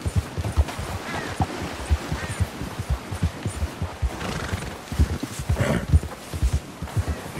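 A horse galloping in Red Dead Redemption 2, rhythmic hoofbeats pounding steadily and close, with heavy breathing and occasional neighing mixed in.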